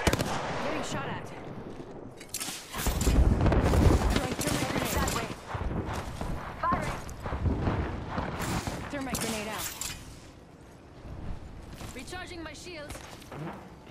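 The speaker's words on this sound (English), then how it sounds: "Getting shot at." Gunfire in the Apex Legends video game, bursts of rapid automatic shots and single cracks, loud and near at first and then thinning out, under players talking.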